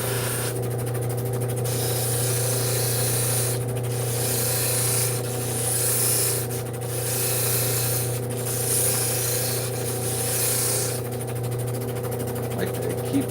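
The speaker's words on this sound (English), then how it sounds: "Like to keep the edges a little bit sanded so that they don't chip on me" Edges of a handmade sculpted piece being sanded by hand, a steady rasping rub that rises and falls in strokes over a constant low hum, with a voice talking under it.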